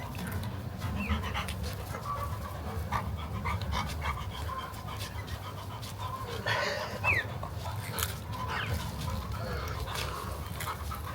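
A pet dog pants steadily and rhythmically close by, with a brief high whine midway, and chickens cluck faintly in the background.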